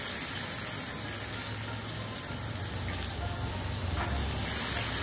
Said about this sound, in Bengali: তারপরে একটু পেঁয়াজ দিয়ে দিলাম অল্প কাটা।